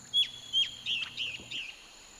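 Red-billed oxpeckers give a short series of about five high, thin chirps, evenly spaced and fairly close over a quiet background with a faint low hum.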